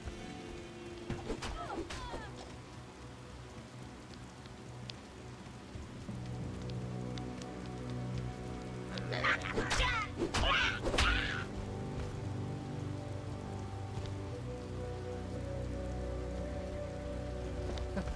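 Rain falls in the video game Diablo II as a steady soft patter across the whole stretch, joined midway by a few brighter splashy bursts of game sound, with no speech.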